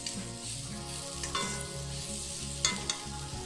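Brinjal sizzles in hot oil in a wok, with a continuous crackling fry and a few sharper spatters and stirring scrapes, heard close and without speech.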